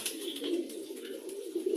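Pigeons coo close by, a soft, low burbling call that rolls on without a break through the short stretch, with faint higher chirps above it.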